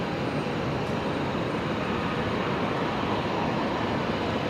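A Link Airways plane lands on runway 01 right at Brisbane Airport, a steady broad roar of engine and rushing air, loud and unbroken throughout.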